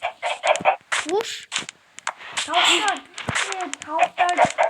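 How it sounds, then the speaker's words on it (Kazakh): Chickens cluck in short, bright bursts mixed through a stretch of steady, overlapping talking, sounding close and moderately loud. "Тауықтар"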